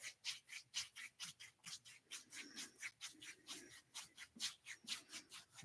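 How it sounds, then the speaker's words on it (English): The flat of a palm rubbing the back of the neck during qigong self-massage, soft rhythmic swishing strokes repeating in quick even succession, close and quiet with no talking. "the flat of the palm rubbing the back of the neck"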